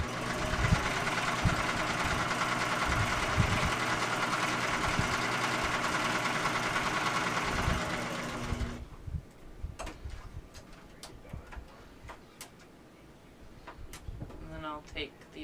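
Sewing machine running a straight quarter-inch seam across fabric for a bingo bag, a steady continuous whir for about nine seconds, followed by quieter handling clicks and rustling.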